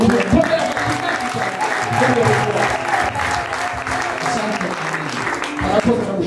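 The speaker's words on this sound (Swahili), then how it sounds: "Pigie makofi mazuri" A church congregation breaks into loud, sustained applause, many hands clapping together in a dense wash, with some voices and cheering mixed in.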